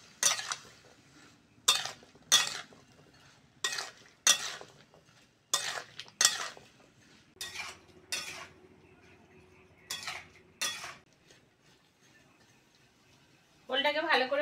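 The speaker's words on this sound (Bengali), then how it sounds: "চিংড়ির সঙ্গে ওলটা ভালো করে ভেজে নেব।" Chopped elephant foot yam fries with prawns, turmeric and salt in a pan, heard as a series of sharp, evenly spaced metal spatula clanks against the pan, followed by a brief louder clatter at the end.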